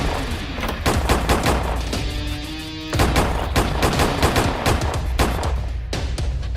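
Automatic weapon fire in the Roblox game Brookhaven, with dense, rapid bursts of shots packed close together, a short lull just before the three-second mark, then steady loud firing resumes to the end.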